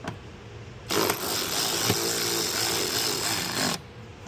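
Power tool tightening splash guard bolts on a 2023 or newer Jeep Wrangler, a loud continuous whir running steadily for about three seconds between short pauses, close up and alone.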